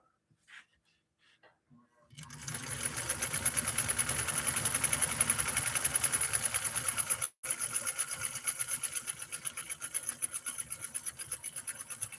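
A Nordic Husqvarna automatic sewing machine stitching at close range, a fast, steady mechanical whir and chatter that starts after a few light clicks, stops for a brief moment, then carries on at an even pace.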